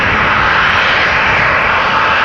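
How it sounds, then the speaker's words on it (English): A KLM passenger jet's engines roar loud and steady at Amsterdam Schiphol Airport, a continuous close broadband rush with no talk. "This is KLM Flight 1525."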